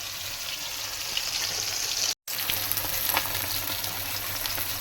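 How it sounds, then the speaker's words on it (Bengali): Fish frying in a pan of oil, a continuous close hissing sizzle that stays loud and even, broken only by a brief cut of silence midway; no voices. "এদিকে মাছ এক পিঠ ভাজা হয়ে গেছে"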